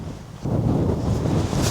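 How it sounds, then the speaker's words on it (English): Strong, steady wind roars and buffets across an open, remote golf course, a continuous gusty rush that swells after a brief lull, with no voices. "wind's hard down off the left"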